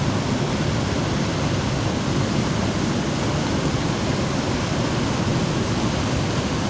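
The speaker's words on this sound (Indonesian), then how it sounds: "Jadi emang yang arus deras, arus menantang." Fast, turbulent river current at a fishing spot, a dense, steady roar of rushing water filling the whole scene without a break, close and loud.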